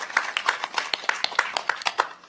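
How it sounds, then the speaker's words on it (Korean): An audition audience claps in a quick, steady patter of individual hand claps, fairly close and moderately loud, short-lived and without voices. "박수 부탁드립니다."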